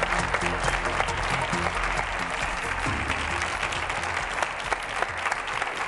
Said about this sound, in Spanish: Un fuerte aplauso para Dani Mateo.